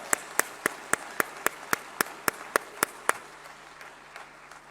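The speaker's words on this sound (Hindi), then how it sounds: "तालियां" About a dozen sharp claps in a steady, even rhythm at the Sant Eshwar Samman 2021 ceremony, fairly close, then they stop and leave faint room hiss.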